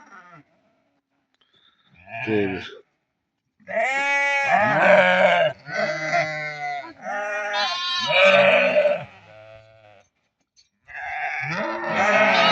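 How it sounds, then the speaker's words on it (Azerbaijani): Lambs bleat in several loud, wavering bursts with short pauses between, close by on a livestock farm. "Gör nə qəşəng quzular var."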